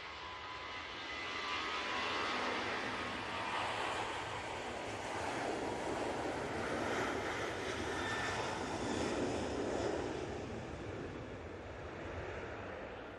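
A Ryanair Boeing 737-800 jet takes off at Manchester Airport, its engines giving a steady, loud roar that swells and holds across the whole stretch, heard from outdoors with no talk.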